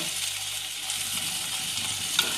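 Chopped capsicum and tomato frying in a pan, a soft, close sizzle with light stirring scrapes and a small clink near the end.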